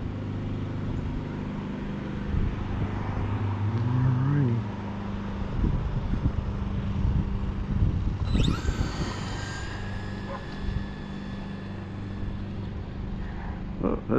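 A stock Associated DR10 two-wheel-drive RC drag car makes a pass down the strip: a low idle hum first, then a sharp rising electric whine as it launches, fading off into the distance, with someone speaking at times.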